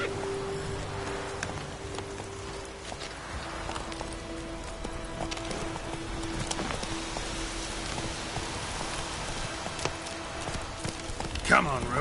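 Witcher 3 gameplay with Geralt's horse Roach galloping, a rapid run of clip-clop hoofbeats under rain. The hooves sound steady at middle distance and a voice speaks over them.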